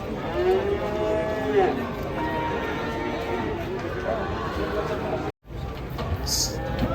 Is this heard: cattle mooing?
yes